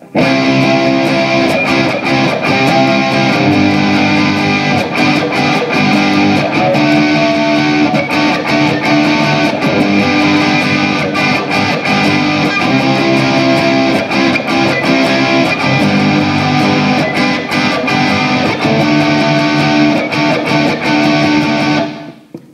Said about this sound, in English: once you add that to the chords, it'll sound like this